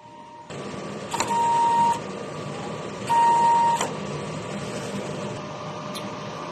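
DTF printer running a print head cleaning cycle: a constant motor whir, two longer louder pump-like surges each carrying a thin tone, and small clicks, with no voices.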